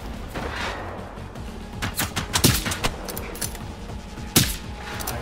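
Gunfire in the video game Generation Zero, bursts of rapid shots and a few sharp louder cracks over a continuous rumbling game background, with no talk during the firing.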